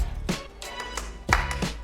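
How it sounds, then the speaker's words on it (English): A marching band member at Alcorn claps out a rhythm by hand: a few sharp, close, loud claps spaced unevenly over a quiet room background. "Anybody want to clap it first?"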